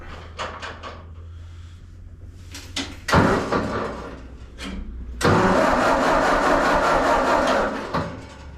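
A Ford 2N tractor engine, heard in a closed space, cranks with a few short bursts, then catches and roars up loudly, running rough and steady for several seconds before easing off.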